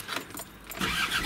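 A Land Rover Discovery TD5 diesel engine cranks briefly and catches, a short close burst of starter noise rising into a rough idle.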